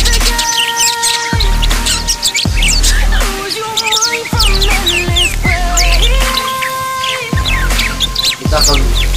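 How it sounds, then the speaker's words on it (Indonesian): Parakeets chirp loudly and continuously, with shrill trills, whistles and squawky calls answering one another close by, over a low background hum and faint music. "Kita akan mendengar sebentar lagi kicauan burung ini."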